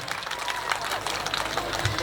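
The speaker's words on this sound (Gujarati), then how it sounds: "એમને પણ ખૂબ ખૂબ તાળીઓથી વધાવી લઈએ આપણે" An audience claps steadily and fairly loudly for prize winners at a school event, a dense, continuous patter of many hands.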